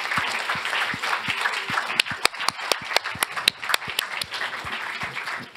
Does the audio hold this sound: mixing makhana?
no